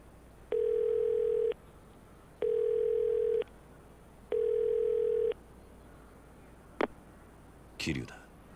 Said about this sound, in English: そっちで誰か俺のポケベル鳴らしたか